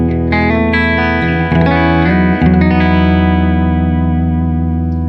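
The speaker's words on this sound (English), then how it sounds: "So here's the bridge pickup." Chords strummed on a Novo Serus J electric guitar's bridge pickup, played straight into a Fender Deluxe Reverb reissue amp with pedals bypassed. Bright ringing notes change a few times and sustain alone, without talk.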